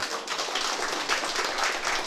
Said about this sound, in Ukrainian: дайте Сергію трошки оплесків